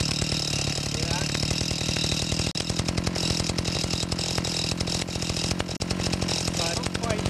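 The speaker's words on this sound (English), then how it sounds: "if I turn in, you'll see it's going to idle faster" A two-stroke engine on a Chinese stand-up scooter idles fast and steadily, a loud, close, continuous buzzing putter with rapid regular firing pulses and two brief dips in level.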